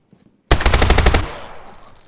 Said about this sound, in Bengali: এবার ফায়ার কর, এবার ফায়ার কর